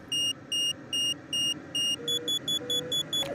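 Electronic warning beeps from the Condor 3 gliding simulator during an online soaring race, a run of evenly spaced tones that switches to a quicker, higher-pitched series of short beeps partway through.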